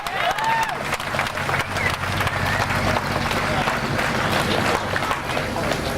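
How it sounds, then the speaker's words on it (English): Crowd at a 1991 Goodguys car show applauds Dave, an owner-builder, with dense, continuous outdoor clapping and some cheering, while voices talk over it nearby. "Big round of applause for Dave."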